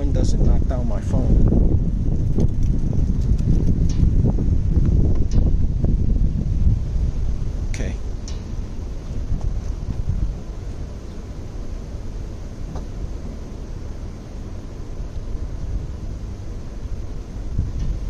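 Heavy rumbling wind buffets a phone's microphone beside a car, strongest early on and easing somewhat later, with faint background sounds beneath.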